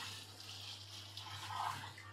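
Water gushing from a village borewell hand pump into a drum: a steady, fairly faint splashing rush that swells slightly near the end.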